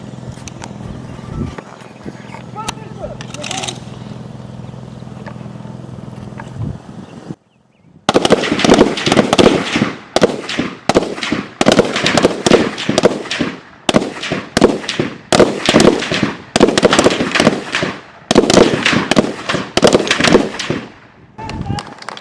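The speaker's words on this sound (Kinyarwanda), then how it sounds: "Barasira hamwe intego zigwa bakoresheje imbunda ya ARM 81-1." Police firing ARM 81-1 guns together at targets during a shooting drill: a long burst of loud, sharp gunshots in rapid, overlapping volleys, some in clusters, after a stretch of talk and background noise.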